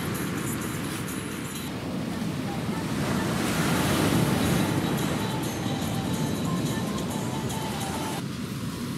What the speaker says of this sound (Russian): На самом деле к шуму волн нужно привыкнуть.